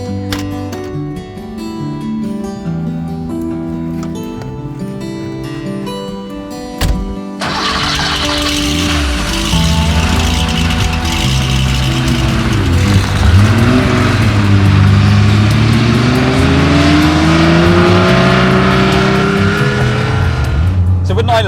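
Modified 1974 Porsche 911 cranking quickly, then firing into a loud flat-six roar that revs and climbs steadily as the car accelerates, close and dominant with a brief speaking voice at the start.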